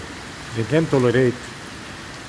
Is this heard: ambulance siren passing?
no